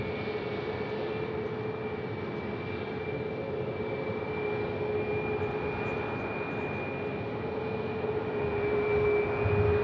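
China Airlines airliner taxiing across a bridge at Sky Harbor Airport, its jet engines giving a steady, even whine and broad rumble that holds throughout and swells slightly toward the end, heard from a moderate distance.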